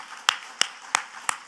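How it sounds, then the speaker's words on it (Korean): Four slow, evenly spaced claps ring out in a church congregation, each a crisp isolated strike with quiet gaps between, fairly close and alone without voices. "믿는 사람 하나님께 박수 영광"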